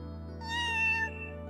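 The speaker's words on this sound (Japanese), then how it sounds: "あ、猫の親子だ。" A mother cat and kitten meow in a dating-sim video game, Tokimeki Memorial Girl's Side: a single drawn-out, clear meow rises over a steady droning game music bed.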